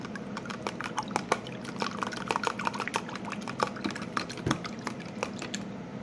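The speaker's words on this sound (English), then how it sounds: "And whisk it well." Warm whole milk being whisked for dinner roll dough, giving a busy run of quick wet clicks and sloshing taps against a bowl, close and steady throughout.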